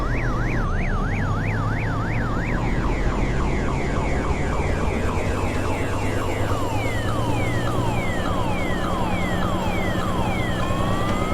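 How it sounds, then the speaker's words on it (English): Car alarm in the American Truck Simulator video game, cycling through loud electronic siren patterns of rising wails and quick chirps, continuous for over ten seconds over steady truck engine rumble. "no one would care about the car alarm"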